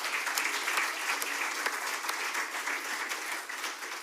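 Audience applause at an international tech summit, a steady dense wash of many hands clapping at moderate distance, sustained evenly throughout without voices.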